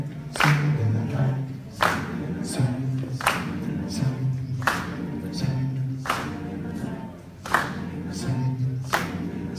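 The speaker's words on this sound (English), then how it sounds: "he was reminding them to clap on 2 and 4, not wherever they wanted, where he needed them to clap" Audience clapping along in time at a live performance, sharp even handclaps landing at a steady spaced rhythm over a low sung or hummed tone, the crowd loud and close.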